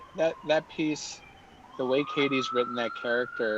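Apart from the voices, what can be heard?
sirens outside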